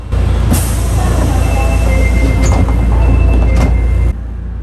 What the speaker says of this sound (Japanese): 大日駅を発車。